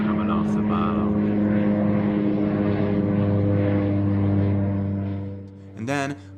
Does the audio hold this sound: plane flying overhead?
yes